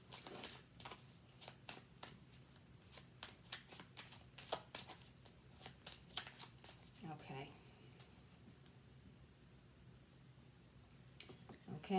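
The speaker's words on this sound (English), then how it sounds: "So you focus on your question while I shuffle." Oracle cards being shuffled by hand during an angel-guided reading, a quick run of crisp papery riffles and taps that pauses briefly midway, then resumes, close and moderately loud with no talking.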